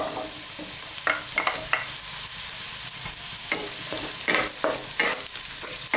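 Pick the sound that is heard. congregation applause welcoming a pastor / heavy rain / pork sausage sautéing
pork sausage sautéing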